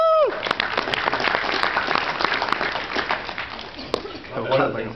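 Applause from an audience at a small business forum, many hands clapping in a dense, steady wash with a few sharper claps, while a voice talks faintly beneath and through it.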